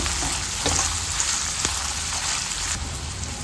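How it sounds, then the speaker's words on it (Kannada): Chopped onions fry in a hot pan, giving a steady, close, crackling sizzle that runs unbroken with no voices. "2 ಈರುಳ್ಳಿನ ಸಣ್ಣದಾಗಿ ಕಟ್ ಮಾಡಿ ಹಾಕೊಳ್ತಾ ಇದ್ದೀನಿ. ಚೆನ್ನಾಗಿ ಫ್ರೈ ಮಾಡ್ಕೊಳ್ಳೋಣ."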